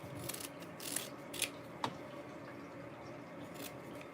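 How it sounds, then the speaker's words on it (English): Scissors trim the fabric seam allowance of a zipper pouch, with a few faint, separate snips and small clicks spread across a quiet background. "And then I'm going to trim my excess seam allowance."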